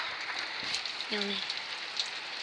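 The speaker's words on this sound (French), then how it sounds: "quand vous voyez ça, c'est qu'il pleut." Steady rain falling outdoors in poor weather, a dense continuous patter of drops on surfaces lasting throughout, with a brief voice-like sound partway through.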